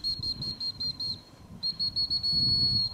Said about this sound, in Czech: Pořádně pískni ke mně.